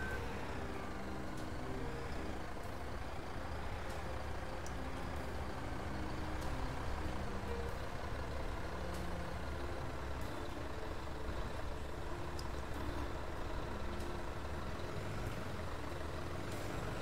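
A truck maneuvers in a farming video game, its engine rumbling steadily under regular, evenly spaced reversing beeps, with occasional short clicks and hisses over a constant mechanical drone.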